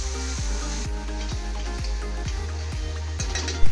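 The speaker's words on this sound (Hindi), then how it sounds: "अब टमाटर को हम प्याज के साथ भूनने के बाद इसमें लहसुन अदरक का 1 चम्मच पेस्ट डाल देंगे।" Garlic-ginger paste sizzling in hot oil in a pan with fried tomato and onion, a steady close frying hiss with a few soft stirring knocks and a brief louder clatter at the end, no talking.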